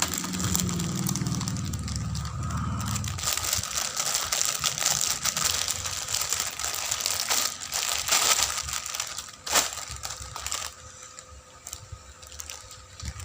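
A fresh blade slices open the plastic packaging of a BINI "Cherry On Top" merch T-shirt, giving a continuous close crinkling and rustling of plastic with scraping and tearing throughout, and no talking.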